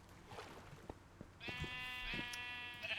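A Minecraft sheep gives a long, wavering bleat after a few soft clicks and thumps of in-game movement, clear and close with nothing else over it.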